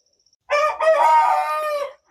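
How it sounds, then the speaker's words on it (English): A single rooster crows nearby in a garden setting: one loud, clear cock-a-doodle-doo lasting about a second and a half against an otherwise quiet background. "I love it when I hear him crowing"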